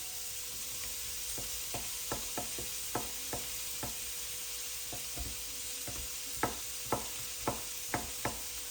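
A knife chops paneer into cubes on a chopping board with a series of crisp, spaced knocks, some in quick clusters. The knocks are close, over a steady sizzling background hiss.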